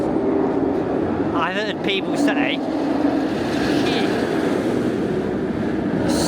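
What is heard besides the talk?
B&M roller coaster roar at Busch Gardens Tampa Bay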